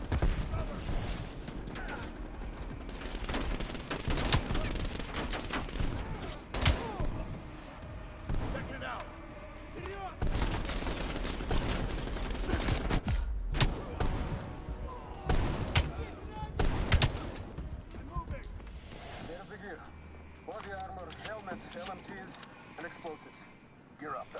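Shotgun blasts and other gunfire in the Call of Duty video game, sharp bursts scattered through dense game action with someone talking over it nearly the whole time.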